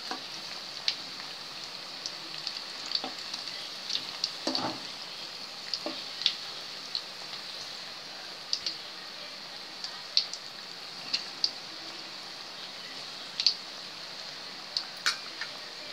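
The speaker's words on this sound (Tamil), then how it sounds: "இந்த மாதிரி திருப்பி விட்டு இன்னொரு பக்கம் வேக வச்சுப்போம்." Onion bonda fry in hot oil, a steady bright hiss of bubbling with scattered small pops and crackles spread unevenly throughout, close and moderately quiet with no talking.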